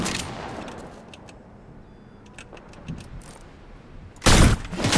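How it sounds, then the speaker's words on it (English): Video game gunfire crackles in scattered bursts, fading into quieter shots before a loud, close volley near the end; no one talks. "Bro, stop shooting at me"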